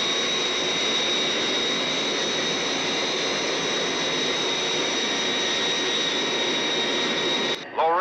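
Thunderbird 2 flying in, a loud, steady jet roar with a sustained high whine that holds unbroken for several seconds before cutting off abruptly near the end.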